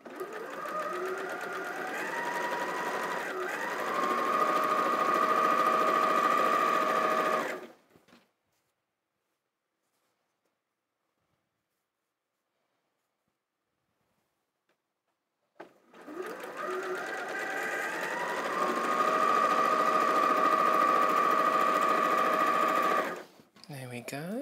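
A sewing machine chain-pieces half-square triangles for a quilt block, running in two steady, close bursts of stitching separated by a long silent pause.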